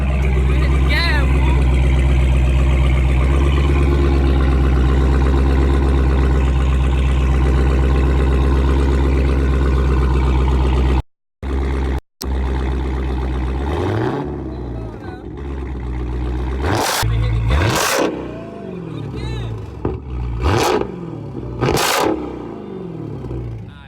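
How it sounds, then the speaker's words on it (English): A Dodge Charger Hellcat with a muffler delete roars loudly and continuously, then cuts out briefly and returns with sharp rev bursts and dropping throttle blips while people talk nearby. "I'm gonna hit the gas."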